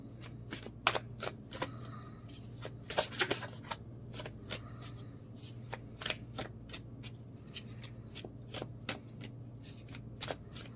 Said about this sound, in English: I will fast forward through the shuffle for those who like to move ahead of it